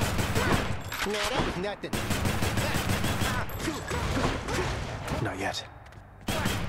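Gunfire from the gun weapon in Hades, rapid repeated shots in dense bursts over busy game combat sounds, with someone talking briefly over the action.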